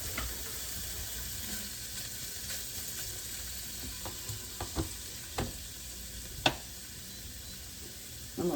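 Shrimp sizzling in olive oil in a pan for shrimp scampi, a steady broad hiss running throughout, with a few faint clinks and taps of a utensil against the pan.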